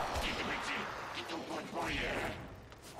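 An explosive charge blows up in the sci-fi shooter Warframe, a booming blast with crackling, gunfire-like bursts that roll on for a few seconds amid dense game combat noise.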